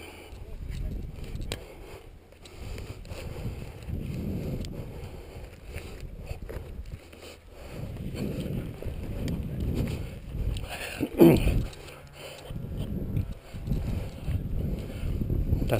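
Wind gusts roar and rumble across the microphone on a paramotor flying field at an aerodrome in the evening, swelling and easing in waves while someone talks over it.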